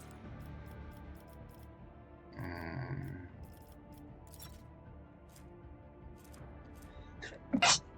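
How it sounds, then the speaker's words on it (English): A single short sneeze, loudest burst near the end of a quiet stretch of gameplay with low background game sound, following an earlier mid-level noise. "Sneezed a bit."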